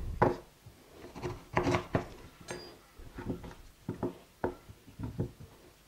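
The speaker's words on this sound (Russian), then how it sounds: "Ну и теперь разрезаем на несколько частей, в зависимости, насколько она у вас большая." A kitchen knife cuts a quince into several pieces, making a series of crisp, close chopping knocks and scraping rubs against a board, spaced irregularly at about one per half second.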